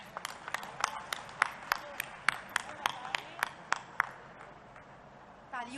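A live audience at a women's self-help group orientation event in Bhopal, Madhya Pradesh claps in a series of sharp, spaced bursts over steady crowd murmur, fading out toward the end.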